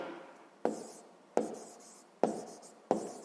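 A pen writes on paper during a sixth-grade maths exercise, making four sharp taps, each followed by a short fading scratch, evenly spaced and close by.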